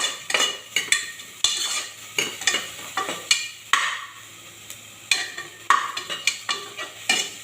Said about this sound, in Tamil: கிளறிடலாம். நல்லா வேகட்டும்.